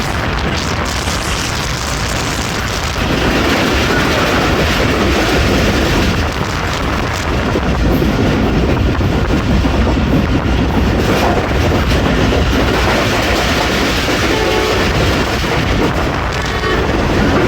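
The Jaffar Express passenger train roars through Ghungrila railway station at close range, loud and continuous, with rumbling wheels and rattling carriages sustained throughout, in foggy winter weather.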